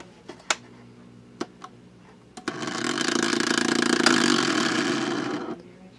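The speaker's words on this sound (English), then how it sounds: "Sounds like it's rubbing on the bottom bushing." A loose bottom bushing makes a small toy phonograph motor rub, giving a steady buzzing whir of about three seconds after a few light ticks and clicks, close and moderately loud.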